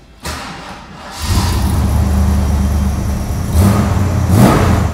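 A 1968 Ford Mustang Shelby GT350 engine cranks and catches, then settles into a loud, rumbling idle with a couple of sharp revs near the end.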